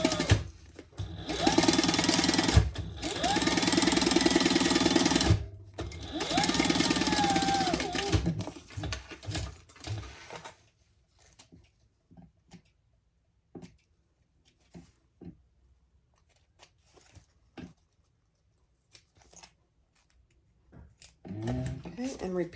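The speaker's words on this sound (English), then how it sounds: "Turn it over and top stitch it down so it's nice and flat." A sewing machine top stitching a seam on a crossbody bag runs in fast buzzing bursts with brief pauses, loud and close, then fades to sparse taps and handling sounds near the end.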